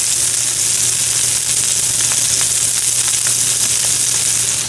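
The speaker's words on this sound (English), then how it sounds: "So this is a good sizzle." Steady, loud sizzling of fish searing in hot oil, a continuous crackling hiss with scattered small pops and no voices.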